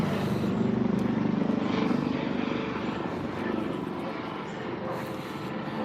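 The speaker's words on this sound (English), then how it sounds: "You heard the helicopter right above?" A helicopter drones loudly overhead, its rotor chop pulsing continuously and filling the whole stretch.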